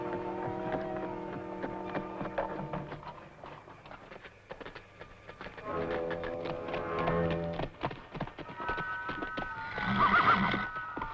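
Horses in a small corral, among them a black stallion, neigh and whinny loudly while hooves clip-clop on the ground, with several calls overlapping the steady clatter of movement.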